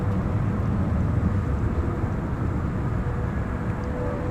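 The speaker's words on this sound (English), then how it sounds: "This is the MD-11, one of the few remaining tri-jets flying around." An MD-11 tri-jet airliner at DFW Airport at night, heard as a steady, loud, low jet roar that holds evenly throughout with no talk.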